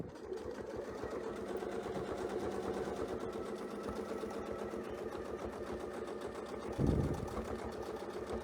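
Sewing machine stitching a quilt block toward the middle, a quiet steady running hum close by with a brief thump near the end, no talk.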